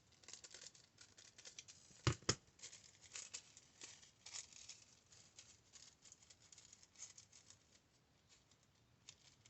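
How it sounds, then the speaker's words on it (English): Quiet, crisp snipping and rustling of paper being cut with large, sharp scissors while making accordion-style tags, with a couple of sharper snips early on, no talking. "I want to use my big scissors for this"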